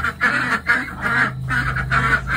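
Ducks quack repeatedly in a rhythmic, close chorus, loud and clear with no talking.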